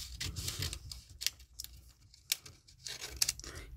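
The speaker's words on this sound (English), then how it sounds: "now we are ready to trim off our excess. So if you get your scissors" Scissors snip through excess paper in a children's Christmas craft, several short crisp cuts with brief pauses between them, close and fairly quiet.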